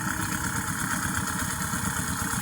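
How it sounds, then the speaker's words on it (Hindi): A motorcycle engine rebuilt with a new piston and new valves idles steadily, a close, loud, even mechanical hum with constant tone and no voices. "ये गाड़ी का साउंड चेक करें"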